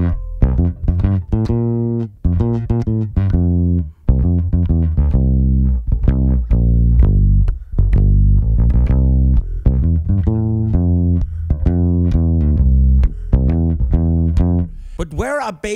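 Excerpt of John Mohns' Danish song "Så længe jeg lever", a full band track with a sung melody over a steady bass line, playing loud and continuous throughout.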